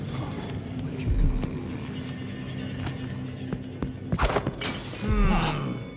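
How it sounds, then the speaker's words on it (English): Glass shattering in the stealth game Dishonored 2, a sharp bright crash near the end standing out over a low ambient room tone and scattered game noises. "That sounded like broken glass."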